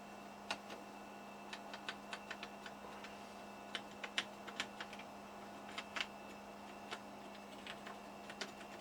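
Keys tapped on an old Siemens PG-730 PLC programmer computer keyboard, faint irregular clicks scattered over several seconds above a steady electrical hum.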